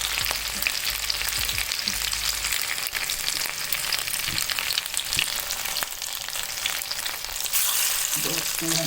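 Fish shallow frying in a pan of hot oil, a loud continuous crackling sizzle close by with occasional pops and faint clinks, steady throughout and without talk.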